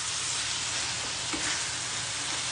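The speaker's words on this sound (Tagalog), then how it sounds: "Gigisa nyo lang sa bawang sibuyas." Garlic and onion sautéing in hot oil, a steady loud sizzle that fills the whole clip with a brief stirring movement near the middle.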